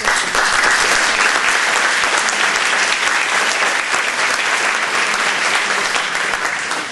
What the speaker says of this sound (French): Mais n'applaudissez pas trop fort.